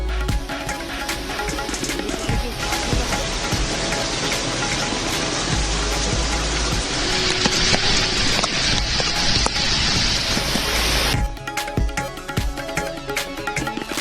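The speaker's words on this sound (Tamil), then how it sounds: "மும்பையில் 4வது நாளாக தொடரும் கனமழையால் இயல்பு வாழ்க்கை பாதிப்பு." Heavy rain pours in Mumbai, a loud, dense and steady hiss of water that stays constant before thinning and growing sparser near the end.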